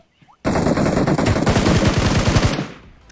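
Loud, rapid machine-gun bursts in the video game PUBG Mobile, close rattling fire that runs continuously for about two seconds and then cuts off abruptly.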